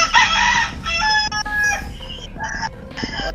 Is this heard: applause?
no